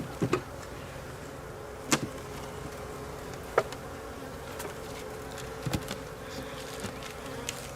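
Honey bees hum steadily at an open hive, a faint continuous drone with a few sharp knocks and taps from the hive body scattered throughout.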